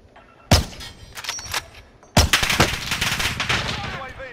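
Bursts of automatic gunfire in an online shooter match, two loud volleys about two seconds apart with the second run rattling on longer, rapid cracks close by and no talk over them.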